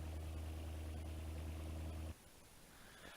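A V8 car engine in BeamNG.Drive held steady near 3,500 RPM, a loud droning hum that suddenly drops to a quieter idle near the end, with no talking.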